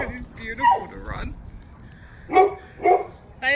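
Several puppies bark and yip in short bursts close by, with three or four sharp barks spaced over a few seconds, and people speak over them at times.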